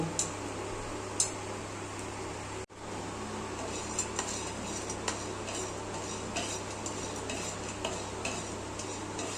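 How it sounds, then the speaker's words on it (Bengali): Chana dal roasting on a tawa, heard as a faint steady background hiss with light scattered ticks and scrapes of stirring against the pan, one brief dropout early on, and no voices. "একটা তাওয়া বসিয়ে এর মধ্যে কয়েকটা ছোলার ডাল একটু ভেজে নেব।"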